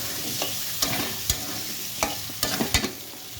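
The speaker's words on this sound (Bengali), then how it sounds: "আমি একটু আলুটা কষিয়ে নিই দুই মিনিটের মতো" Potatoes sautéing with spices in a pan sizzle softly while a spatula scrapes and knocks against the metal in several sharp, irregular strokes, close by.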